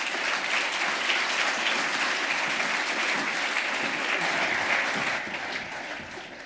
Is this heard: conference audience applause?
yes